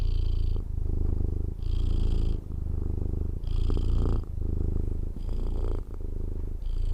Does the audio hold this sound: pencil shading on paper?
no